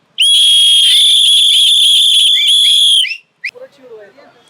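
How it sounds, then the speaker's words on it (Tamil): A small whistle is blown once in a long, loud, shrill blast lasting about three seconds close by, followed by a brief chirp and faint crowd noise at a public gathering in Anna Nagar. "சின்ன விசில்"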